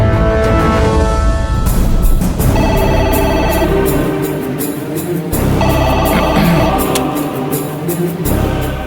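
A telephone rings in a repeating pattern of bright tones while an office call is put through to the manager, loud and clear over a musical backdrop, with no talking.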